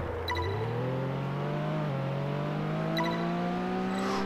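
A sports car engine in the racing game Test Drive Unlimited 2 revs steadily higher under acceleration, a loud continuous drone with rising pitch and a brief gear-change dip.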